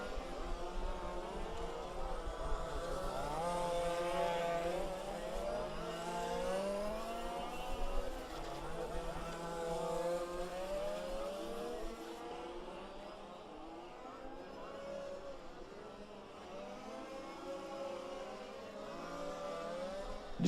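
Fifth-scale 4WD spec racing cars scream down a back straightaway, their engines rising and falling in pitch as they accelerate and pass, heard at a distance under a steady outdoor hum.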